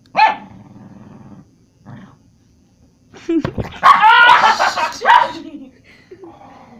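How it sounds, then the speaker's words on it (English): A dog growls and barks close by in a few loud bursts, with short pauses between them, while people talk nearby. "Dude, you better get away from me, dog. Dang, he growling at you, though."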